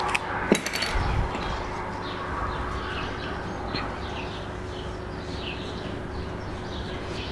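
Birds chirp in a garden beside outdoor cooking of corn dogs, light scattered calls repeating over steady background noise, with a sharp clink near the start.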